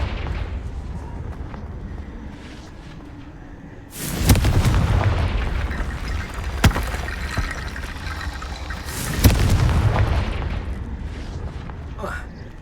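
In Hogwarts Legacy, Confringo blasting spells erupt in two heavy, booming explosions several seconds apart, each with a deep rumbling tail, over a continuous bed of game noise and shouted voices.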